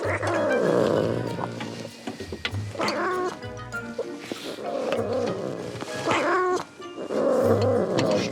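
A wary female cat caterwauls in long, loud, wavering yowls while being prodded out with a broom during an animal rescue, the drawn-out cries rising and falling close by with brief pauses between them.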